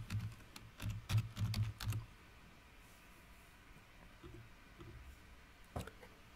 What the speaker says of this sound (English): you need to open installed generators and type in search panel